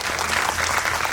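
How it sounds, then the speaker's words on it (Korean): An audience claps enthusiastically for actress Seo Hyun-jin at a Korean film talk event, a dense, continuous wash of applause filling the whole moment without pause. "여러분 큰 박수 보내주세요."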